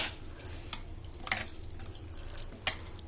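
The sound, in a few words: washing flattened rice (poha) in water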